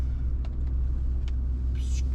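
A pickup truck pulling a trailer loaded with sliding glass doors and gable windows drives off slowly, a steady low engine and road rumble with a few light knocks and a brief higher hiss near the end.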